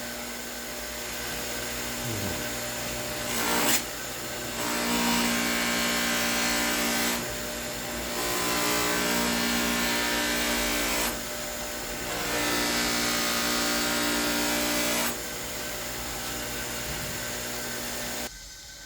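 Knife blade polished with brown compound on a sisal buffing wheel mounted on a machine, a loud steady motor whine with broad grinding hiss that swells in several passes as the blade is pressed on.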